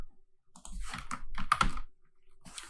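Typing on a computer keyboard while entering code for reading an Excel spreadsheet: a close burst of rapid key clicks in two quick runs, crisp and fairly loud, then a brief pause and a final tap, with no talk.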